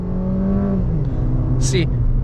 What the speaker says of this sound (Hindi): अब मैं हार्ड एक्सेलरेट करूँगा। मैंने पूरा पैडल दबा दिया।